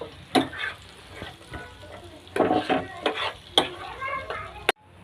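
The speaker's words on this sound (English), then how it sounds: "And the peanuts in a oil. Stir them well." Peanuts fried in oil for poha sizzle steadily while a spoon scrapes and stirs them, with several sharp metallic knocks against the pan and a brief quiet gap near the end.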